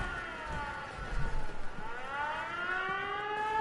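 A civil defense siren wails in the video game Fallout 4, its rising and falling tones sweeping steadily across the whole stretch, loud and continuous over a low background rumble.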